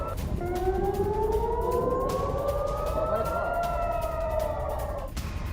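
Air raid siren wailing over the Israeli city of Safed during an Iranian missile attack, a loud sustained tone rising slowly in pitch and holding, with layered harmonics over steady background noise and no voices.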